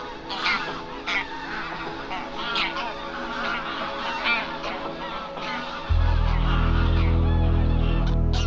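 Geese honking at a wintering wetland fishpond in autumn, a dense chorus of overlapping calls from a large flock, steady throughout, with a deep low rumble joining in the last few seconds.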